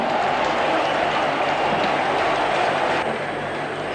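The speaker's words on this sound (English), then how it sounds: "there's anticipatory applause" Dense crowd applause at a 1989 India v Pakistan one-day international cricket match in Kolkata, a steady continuous roar of clapping and cheering from a large stadium audience, loud and sustained throughout.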